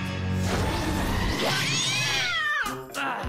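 A cat meows loudly and close by, a drawn-out, rising and falling call of about a second, set against busy background noise and a brief knock near the end.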